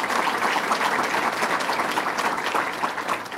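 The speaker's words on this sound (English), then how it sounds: "Let's give him a round of applause" A crowd applauds a speaker at a public event in Rochester, dense steady clapping that carries on throughout at moderate loudness.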